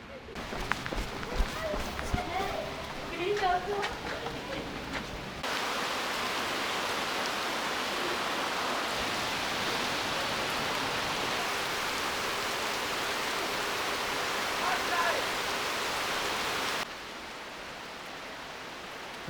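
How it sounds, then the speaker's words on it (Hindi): Heavy stormy rain pours in a dense, steady roar, loud and close, starting abruptly after a few seconds of rustling and continuing almost unchanged before easing slightly near the end. "ये तो तूफ़ानी बारिश होने लग गई।"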